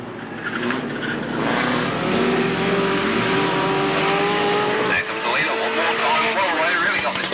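Stock cars racing at Alwalton Raceway in 1983, engines roaring steadily as they circle the track at a distance, under a race commentator's continuous talk.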